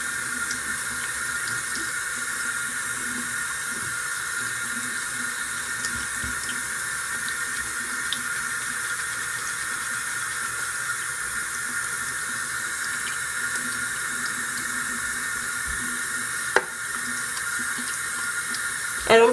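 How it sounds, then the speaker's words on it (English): Tap water runs steadily into a sink while makeup brushes are washed, a constant close hiss of flowing water with a brief clatter near the end and no talking. "just washing my brushes."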